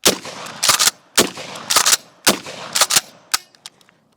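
A Kel-Tec shotgun fires target loads at a watermelon, several sharp, loud reports in irregular pairs and bursts, each with a short ringing decay, the last shots trailing off quieter.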